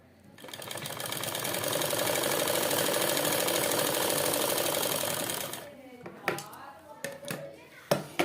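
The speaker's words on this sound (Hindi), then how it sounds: "यहाँ हम पॉकेट को बराबर करते हुए एक सिलाई यहाँ से लगा लेंगे" A sewing machine stitches a pocket onto a trouser in one loud, steady mechanical whir for about five seconds, then stops, followed by a few sharp clicks and handling knocks.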